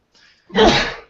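A single sharp sneeze bursts out close by after a faint inhale, with a loud, breathy burst that tails off quickly.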